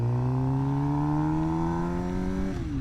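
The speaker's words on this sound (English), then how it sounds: "It's heavy on the engine braking." Engine of a 2025 Suzuki GSX-R 750 motorcycle under heavy engine braking at slow speed, a loud, steady drone whose pitch sinks gradually before dropping off sharply near the end, with no talking.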